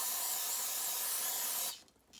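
An aerosol spray hisses steadily onto McCulloch 850 chainsaw engine parts, a close continuous burst that cuts off near the end.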